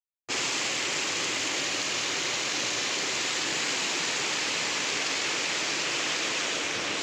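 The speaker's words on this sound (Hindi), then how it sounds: "ये हमारे गांव की बहुत तेज नदी चल रही है" A fast-flowing village river rushes in a constant, loud broadband roar during rain, starting abruptly and holding steady with no voices.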